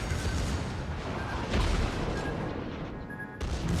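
Ship secondary guns firing during a World of Warships battle, a dense, loud rumble of booming gunfire and explosions that swells and dips, with a brief drop near the end.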